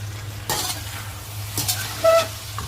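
Mixed vegetables sizzle in a pot during festival cooking, a steady low frying hiss broken by a few scraping stirs and a brief metallic clink, close by with no talk.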